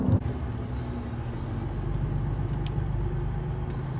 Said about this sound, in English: I'm just gonna pull into the beach here